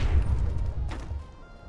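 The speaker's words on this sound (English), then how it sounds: "Little mini nuclear explosion." A mini nuclear blast in the video game Fallout 4 gives a deep, rumbling explosion with a crashing, thudding low end that rolls on and slowly fades over under two seconds.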